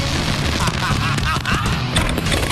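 Pyrotechnic explosions from a fireworks company's display, a dense run of booms and crackling bursts under a voice talking, loud and continuous throughout.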